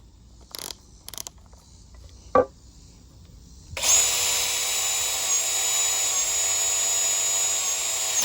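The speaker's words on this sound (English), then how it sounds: "I'll put it on drill." After a few scattered clicks and a knock, a power drill whirs up close and runs steadily with a high whine for several seconds while building a tufting frame.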